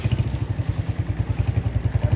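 A new 2025 Honda CG 125 self-start motorcycle idles close by, its single-cylinder engine thumping in a fast, even rhythm with light mechanical clatter.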